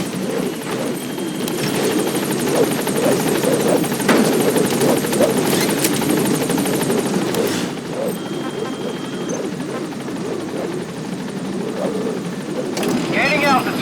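Pequod helicopter from Metal Gear Solid V: The Phantom Pain, a steady rotor and engine drone holding through the whole stretch, with voices and game chatter layered over it.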